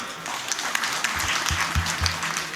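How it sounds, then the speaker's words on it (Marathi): Parents in an audience applaud together, a dense, sustained patter of many hands clapping from a moderate distance, steady throughout with no speech over it. "त्या सगळ्या पाल पालकांनी एकदा जोरदार टाळी वाजवा"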